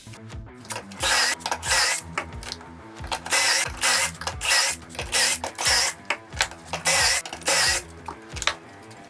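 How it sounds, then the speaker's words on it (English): Pocket holes are drilled into wooden cross pieces and stretchers for a midsize workbench, giving repeated bursts of loud drilling with a whirring, clattering mechanical rattle, alternating with short pauses and close to the listener. "we're gonna add our pocket holes along the sides of our cross pieces and our stretchers."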